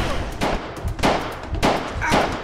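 A flashbang grenade detonates in a VR shooter game amid a stream of gunfire, with several sharp broadband bursts spaced about half a second apart over steady combat noise.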